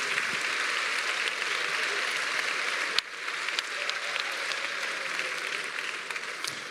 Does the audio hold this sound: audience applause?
yes